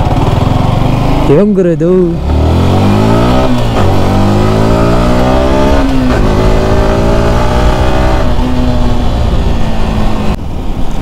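Vehicle engine droning while driven on a road, with loud steady hum and rising, falling pitch sweeps as it accelerates and shifts; a voice speaks briefly over it.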